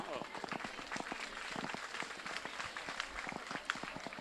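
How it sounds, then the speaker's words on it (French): Audience applause at a school ceremony in Ziguinchor, Senegal, honouring top students, a dense patter of many hands clapping steadily throughout, moderately loud with scattered sharper claps. "Applaudissements."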